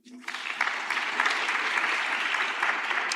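Summit attendees clap in a dense burst of applause that rises quickly and holds steady for a few seconds, close and full. Someone speaks briefly at the start.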